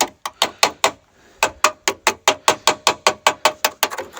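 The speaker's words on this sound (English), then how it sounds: "after I welded it, try to chip this slag off." A knife blade chips weld slag off a freshly welded door pin bushing on an S10 Blazer, giving a rapid series of sharp metallic clicks and scrapes, loud and close, with a short pause early on.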